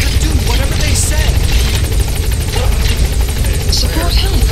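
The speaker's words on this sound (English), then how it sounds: "Support helicopter has arrived." Helicopter rotor thumping in Metal Gear Solid 5: The Phantom Pain as a support chopper arrives, a loud continuous low drone and chop beneath game voices and effects.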